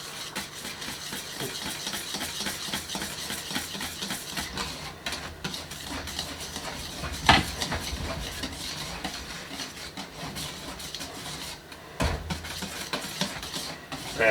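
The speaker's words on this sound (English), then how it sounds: "We're going to start adding the cream and basically start folding through the cream." Cream being folded into a cheesecake mix with a spatula, a soft continuous scraping and swishing with occasional louder strokes, close and fairly quiet.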